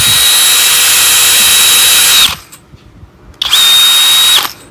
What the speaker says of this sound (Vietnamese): Khoan thì miết miết luôn ha.